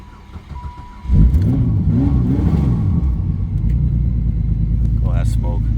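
A car engine revs hard and loud, used to push a Grand Prix out of the way during yard work, with a steady heavy rumble that holds for several seconds after a sudden start. A voice talks briefly before it.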